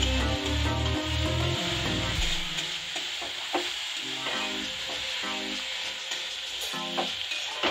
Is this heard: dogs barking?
no